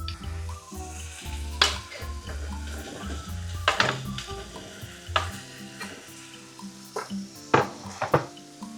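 Large zucchini pieces frying in a pan, a steady close sizzle broken by several sharp clanks and scrapes of a utensil stirring against the metal.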